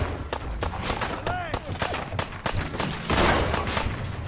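Raiders' guns fire in rapid volleys in Fallout 4, the sharp cracks and thuds coming thick and close together, with a voice talking over part of the shooting.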